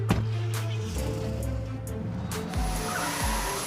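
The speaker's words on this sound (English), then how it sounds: "Oh, that turbo sounds good too." A Baja car engine revs and shifts through quick pitch changes, with a thin high whistle of a spooling turbo appearing partway through.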